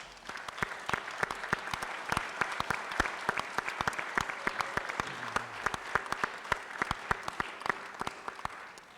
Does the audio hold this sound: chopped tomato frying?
no